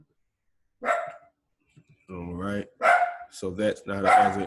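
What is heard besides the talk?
dog barking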